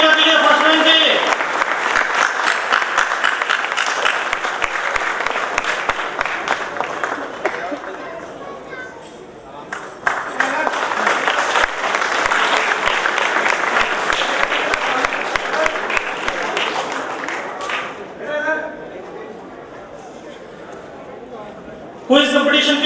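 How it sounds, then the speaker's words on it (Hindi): At an Ambedkar Jayanti event, a crowd gives loud, long applause as the first-rank quiz winner goes up on stage. An announcer speaks over the clapping, which dips and then swells again. "जोरदार तालियां मैत्रिका के लिए, फर्स्ट रैंक के लिए"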